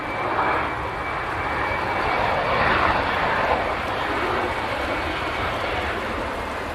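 A VistaJet aircraft flies past Manchester Airport on a very short flight, its engines giving a loud, steady roar that swells slightly and then holds.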